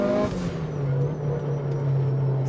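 Inside a 2006 Mitsubishi Lancer Evolution 9 GSR with a window open, a loud steady roar of road and wind noise fills the cabin, with a constant low engine drone underneath.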